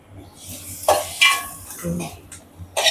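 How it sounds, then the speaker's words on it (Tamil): Tomatoes sizzle in a hot pan while a spoon stirs and scrapes against the metal in a few uneven strokes. "இது நல்லா தக்காளி வதங்கட்டும்"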